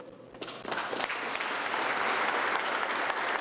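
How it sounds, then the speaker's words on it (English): Applause at an outdoor public announcement of a provincial investment starts thinly and swells into steady, moderately loud clapping from an audience, continuing to the end. "the applause are for you that do this work"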